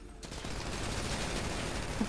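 Sustained automatic gunfire in the video game GTA 5 during a sewer co-op mission, a steady, continuous rattle of shots that runs unbroken for about two seconds at moderate level.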